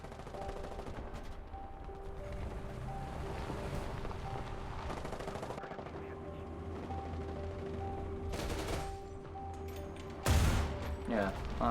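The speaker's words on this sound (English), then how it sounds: "I did a random shot there" A tank cannon fires once from a T-72AV TURMS-T in a video game: a single sharp, loud blast near the end, rising above a steady engine rumble and hum.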